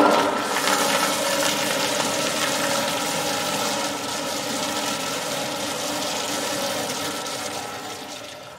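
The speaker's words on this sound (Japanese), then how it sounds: "トイレ流せる。" A toilet flushing in a horror video game, a loud continuous rushing of water that holds steady and slowly fades near the end, no talking.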